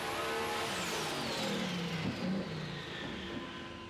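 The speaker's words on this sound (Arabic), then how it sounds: "شغل سعيد ماكينة السيارة حتى يعطينا إحساس بقوتها" A modified dune racing car's engine revs on a sand hill, a steady rising roar with a swelling mid-section, heard from a moderate distance.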